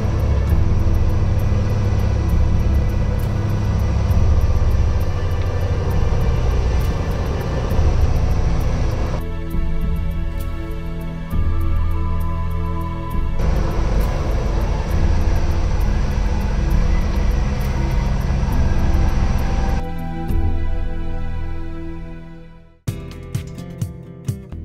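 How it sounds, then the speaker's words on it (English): Small airplane touching down on a rough landing and taxiing, a loud, close, continuous engine and propeller roar inside the cabin with rumbling shifts in tone, fading toward the end with a few knocks. "Kudos, though, to Philip and Lucy for being such great passengers on such a rough landing."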